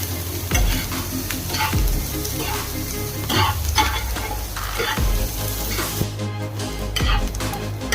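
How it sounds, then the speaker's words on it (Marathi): Onions fry in oil over a high flame until browned for mutton rassa, a loud, dense, close sizzle with steady rhythmic stirring and scraping against the pan throughout. "इथं तुम्ही बघू शकता कांदा चांगला भाजत आलेला आहे तांबूस कलरवर."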